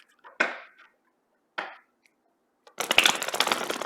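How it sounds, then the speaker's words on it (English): Two quick riffles of tarot cards, then a longer, louder burst of shuffling with rapid papery flutters, close and crisp. "Sorry if it's a loud shuffle."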